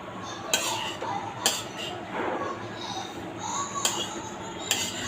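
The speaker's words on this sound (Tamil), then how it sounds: "நம்ம கொஞ்சம் கொஞ்சமாக ஊற்றி கிளறிக்கலாம்" Cooked rice being stirred with masala for tamarind rice, with a spoon clinking against the vessel at intervals over a continuous soft scraping and mixing noise, close and moderately loud.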